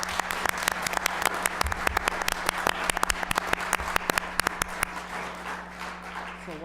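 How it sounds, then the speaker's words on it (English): Sharp, distinct claps ring out in a council chamber during a city council meeting, a modest group applauding in quick irregular bursts against a low steady hum before thinning out near the end. "I think we should applaud their service."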